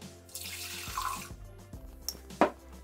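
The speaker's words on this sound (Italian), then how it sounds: "versiamo l'acqua" Water from a tap pours into a Thermomix mixing bowl, a steady splashing stream with a few drips and small clinks, close and clear with no talk.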